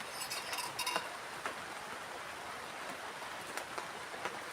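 Rain falls at night on a campsite, a soft steady patter with scattered sharper drips and ticks, faint and close.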